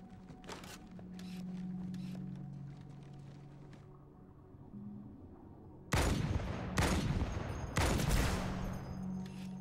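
Sniper rifle shots in the video game Halo 2 crack out three times in the second half, each a loud, sharp blast with a short tail, following earlier quieter bursts of battle noise.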